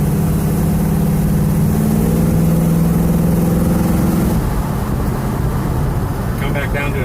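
A 1969 Chevelle's engine rumbles loudly from inside the car, revving up through the gears and then dropping in pitch as it eases back down, with someone talking over it.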